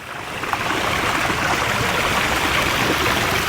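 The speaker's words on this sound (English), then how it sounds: "Another water feature over here by the pool." A water feature beside a campground resort pool flows with a constant, even rush of falling water, close and steady throughout.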